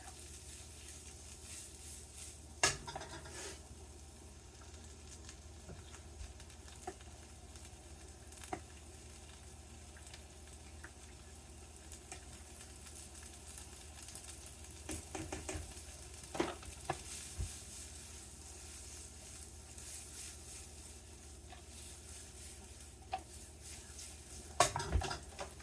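Spinach wilting and cooking down in a pan for shrimp Alfredo, giving a faint, steady low sizzle with occasional sharper clinks and stirring scrapes of a utensil against the pan, no talking.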